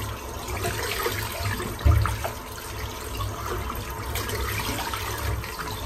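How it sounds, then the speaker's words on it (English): Running water from a tap rinses a shaving brush in a steady, fairly loud rush, with one brief thump near the middle. "I'm just rinsing the brush out."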